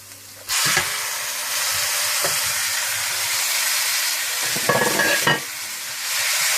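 Minced keema meat, added for samosa filling, sizzles loudly in a pan as it is stirred, with a steady frying hiss and occasional scraping strokes of the spoon, heard close with no voices.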